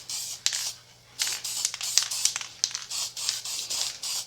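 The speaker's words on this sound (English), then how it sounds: "I figured I'd get a little dust coat on these bolts" Aerosol spray paint hissing in repeated short bursts as a dust coat of Hirsch Cadillac blue goes onto engine bolts, close and fairly loud with brief pauses between passes.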